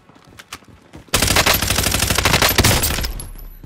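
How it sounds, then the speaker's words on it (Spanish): Dense rapid gunfire from the video game Call of Duty Warzone on Rebirth Island erupts after a quiet second, sustained bursts of automatic shots continuing loudly to the end. "¡Están disparando!"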